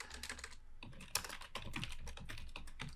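Quick, irregular keystrokes on a computer keyboard, a close burst of typing clicks at a low level with a short pause partway through.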